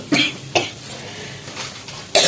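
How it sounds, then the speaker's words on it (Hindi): A person coughs several times up close, harsh bursts spaced irregularly with brief pauses, ending in a louder fit. "ये बात नहीं करने दे रही है खांसी"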